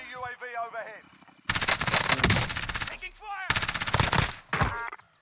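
Rapid automatic gunfire from an MP7 in Call of Duty Warzone rattles out in two loud, dense bursts, each lasting about a second or more, after a player talks briefly at the start.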